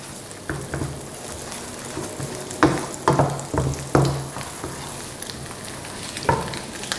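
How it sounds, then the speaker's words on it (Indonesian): Garlic sautés in hot oil for Chinese-style seafood fried rice, a steady close sizzle broken by several sharp scraping stirs of a utensil against the pan. "Nah, kita tumis sampai bawangnya harum ya."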